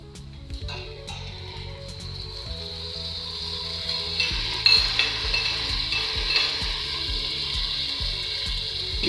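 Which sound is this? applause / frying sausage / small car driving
frying sausage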